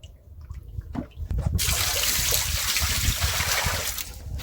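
Water pours out in a steady, close rushing splash on a boat during fishing in the Sundarbans, beginning after a second of faint knocks and trickles and continuing without a break.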